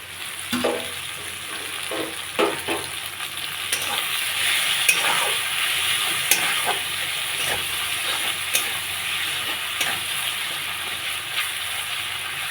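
Slit green chillies and ginger join chopped onion, tomato and whole cumin frying in a pan for a rohu fish curry, giving a continuous close sizzle with occasional spoon taps and stirring scrapes.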